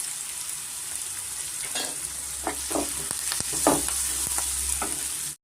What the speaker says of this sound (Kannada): ಈರುಳ್ಳಿ ಸ್ವಲ್ಪ ನೋಡಿ ಈ ಥರ ಫ್ರೈ ಆದರೆ ನಮಗೆ ಸಾಕಾಗುತ್ತೆ